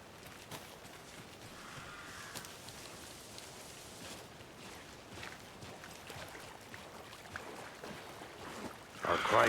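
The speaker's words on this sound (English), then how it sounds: "I never minded rain." Steady rain falling in the video game Alan Wake 2, a soft continuous hiss and patter at a crime scene, fairly quiet throughout, swelling louder near the end.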